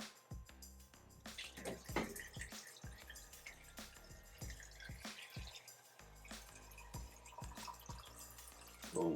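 Filtered water poured from a container onto fruit in a jar to make homemade vinegar, with a series of splashes and drips in uneven bursts, fairly quiet and close.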